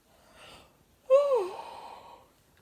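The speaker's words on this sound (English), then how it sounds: "There's my yawn." A single human yawn, preceded by a faint breath, swells into a close, voiced, drawn-out exhale with a sliding pitch before trailing off quietly.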